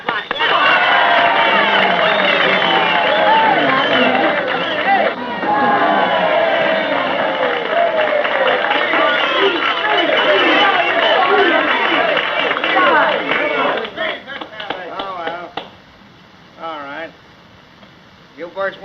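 A banquet crowd of men in a 1931 gangster film cheers, whoops and claps loudly for most of the stretch, voices mixed into the din, then it thins to scattered sounds near the end.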